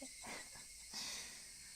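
Faint, steady high-pitched droning of higurashi cicadas with a soft shimmering hiss, sustained and distant, rising slightly near the end.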